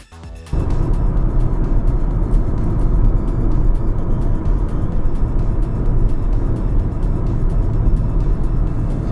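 A Nissan Magnite with a CVT gearbox drives along, its steady engine and road noise holding loud and close throughout after a brief quieter start.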